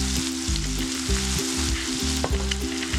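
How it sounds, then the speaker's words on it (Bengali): Onion paste frying with salt in a pan for a masala fish curry gives a loud, continuous sizzle, with a rhythmic pulse from repeated stirring and no voices. "একটু পেঁয়াজটা ভাজা ভাজা হয়নি।"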